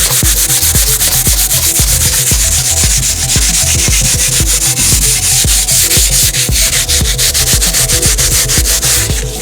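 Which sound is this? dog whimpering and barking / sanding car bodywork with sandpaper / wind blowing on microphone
sanding car bodywork with sandpaper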